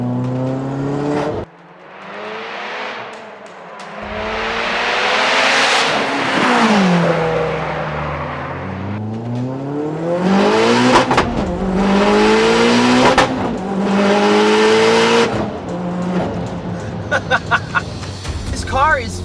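A tuned, water-methanol injected, 500 wheel-horsepower all-wheel-drive Mitsubishi Evo revs hard and accelerates through several gears, rising whines with brief shift breaks, loud and close, ending in sputtering pops.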